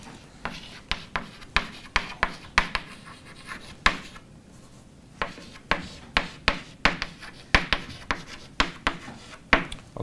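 Marker or chalk strokes scratch and tap on a lecture board in quick rhythmic bursts, each a sharp rub, pausing briefly near the middle before the writing resumes, close and clear with no talking.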